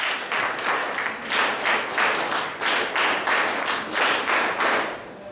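Audience clapping at the closing ceremony of a de-addiction camp, a close group applauding in rhythmic, pulsing bursts that carry on steadily.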